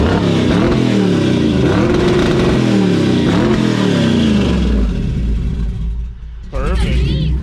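A hot rod car from a speed shop roars to life and revs hard to the floor, with loud, sweeping engine surges over a deep rumble, a brief dip, then another sharp rev.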